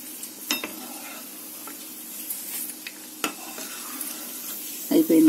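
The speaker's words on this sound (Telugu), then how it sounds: "చూస్తున్నారా జీడిపప్పు వేగుతున్నదండి." Cashew nuts frying in a pan while making dal mudi moong dal mixture, a steady soft sizzle with occasional scraping stir clicks, and a louder clatter near the end.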